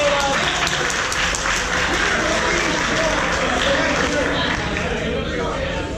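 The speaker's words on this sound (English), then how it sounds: "I want to start with a round of applause first before I talk." An audience at a laser tag awards dinner claps loudly and steadily for several seconds, a dense wash of applause with some crowd chatter mixed in.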